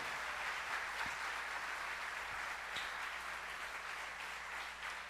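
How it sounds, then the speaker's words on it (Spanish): A church congregation at a Sunday service applauds steadily, a soft continuous wash of clapping with a few sharp low thumps, fairly distant and without talk. "Así que apláudase fuerte, usted mismo."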